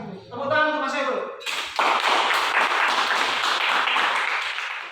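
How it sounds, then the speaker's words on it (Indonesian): Applause breaks out for a classroom presentation after a short spoken line, a dense wash of many hands clapping that holds steady and then slowly tapers. "Tepuk tangan untuk Mas Saiful"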